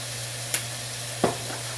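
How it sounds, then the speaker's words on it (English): Ground turkey mixture sizzling in a pan, a steady soft fry with two distinct scraping stirs of a utensil, alongside a low constant hum and no talking. "I'm going to continue to stir that around like that"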